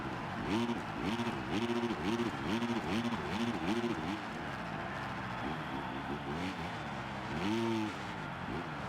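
Two-stroke dirt bike engine in Monster Energy Supercross 25, a buzzy, rhythmically surging rev pattern rising and falling in quick cycles, fairly faint, pausing midway and returning near the end.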